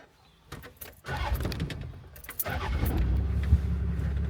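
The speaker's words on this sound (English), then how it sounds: "I was now gonna have to try to ascend this mountain on the shredded tyre" A 4x4 in low range grinds up a steep mountain trail on a shredded tyre, its engine droning low and building steadily louder, with scattered clunks and knocks from the drivetrain and rough ground throughout.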